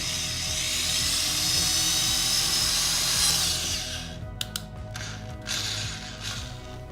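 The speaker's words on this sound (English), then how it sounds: "So now it's just a matter of drilling that small hole." A power drill whines loudly and steadily for a few seconds drilling a small hole in a Mitsubishi Evo 8 bumper, then winds down, followed by a few sharp clicks and a brief quieter burst of drilling.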